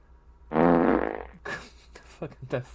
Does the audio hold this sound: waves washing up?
no